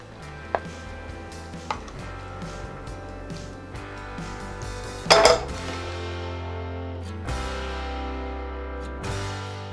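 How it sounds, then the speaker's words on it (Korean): Stir-fried ingredients for a Chinese seafood and vegetable dish are scraped from a pan into a serving dish, with a few sharp utensil clinks, one loud metallic scrape midway and pot clatter, no talking. "먼저 이렇게 볶은 것을 여기에 담아주세요."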